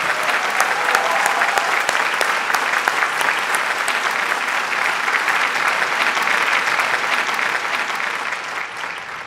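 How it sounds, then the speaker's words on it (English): Children at a graduation ceremony give a loud, sustained round of applause for their parents and grandparents, dense clapping that carries evenly for several seconds before tapering off at the end. "Children, let's give a loud applause to your parents and grandparents."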